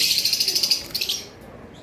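Pet lovebird or cockatiel from a group of four caged birds, giving a rapid run of shrill repeated chirps up close before falling quiet.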